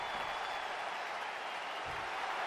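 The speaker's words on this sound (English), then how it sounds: "He's taking a moment to feel the crowd," Arena crowd in the WWE 2K23 wrestling video game, a steady wash of distant cheering and applause that holds evenly throughout with no pauses.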